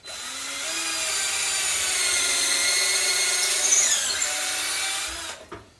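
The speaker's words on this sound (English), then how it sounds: "Take the drill, support it so you don't mess up the Schnitzenplatzen, and drill the hole." A power drill bores a hole through pegboard, its motor whining steadily at close range for several seconds before the bit breaks through and the drill winds down and stops.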